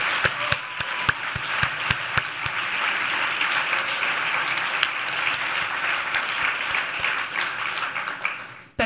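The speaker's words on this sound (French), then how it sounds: "On l'applaudit." Sustained audience applause at a 2025 closing ceremony, a dense steady clapping from a crowd lasting several seconds, with a few sharper individual claps standing out near the start before it fades at the end.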